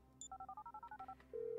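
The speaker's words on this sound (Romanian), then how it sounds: "I'm making the call." An old telephone in GTA 5 dials a rapid run of about a dozen evenly spaced touch-tone beeps, then settles into a steady line tone, close and quiet with no voices.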